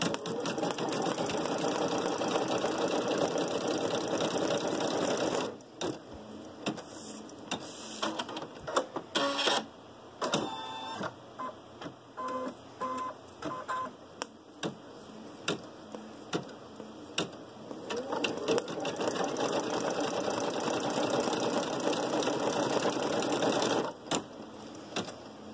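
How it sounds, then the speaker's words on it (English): An embroidery machine stitches the ear placement line on an in-the-hoop bunny bib, a loud fast needle chatter that runs steadily, breaks into stop-start clicks and short bursts, then resumes continuous stitching. "The first stitch that it's going to do for the ear is a placement to show you where to tape"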